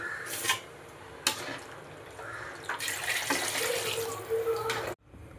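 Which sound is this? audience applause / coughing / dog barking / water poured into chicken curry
water poured into chicken curry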